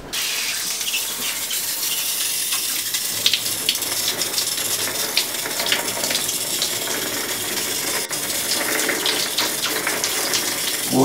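A bathroom tap runs steadily as an arm is washed under it, a continuous loud gushing and splashing of water with small surges and no pauses.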